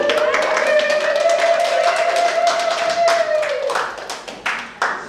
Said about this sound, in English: You all clap for us, would you?